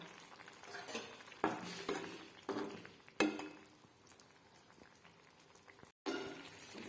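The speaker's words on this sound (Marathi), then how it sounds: "त्याला ना थोड्या वेळ शिजून घेऊत आपण मंद गॅसवर आणि उकळल्यानंतर वरतून कोथंबीर" A wild kali koyri vegetable curry simmering in a pot on low gas bubbles softly and steadily, with several louder scraping surges as it is stirred. The sound is close and fairly quiet, with no voices.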